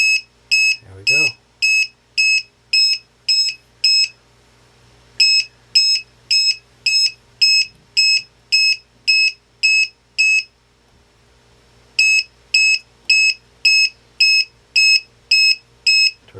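A Target Hobby 3-in-1 low-voltage alarm on a 3-cell RC battery circuit sounds loud, shrill beeps in rapid, evenly spaced bursts, with two short pauses between the runs.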